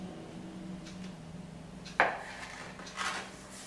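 A knife cuts the ends off puff pastry dough rolled to 2 cm thick, giving one sharp knock against the board and a softer scrape a moment later over a low background hum.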